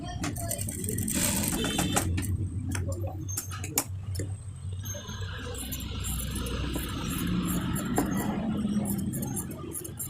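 A sewing machine stitches a fatua with a half-plate chest placket, giving a light, irregular mechanical rattle and ticking that runs on fairly faintly and steadily.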